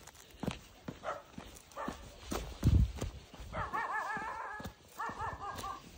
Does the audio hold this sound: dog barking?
yes